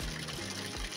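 Water pours steadily from a stone cow-mouth spout by the sea at a Konkan temple near Ratnagiri, a soft continuous rushing and splashing heard up close.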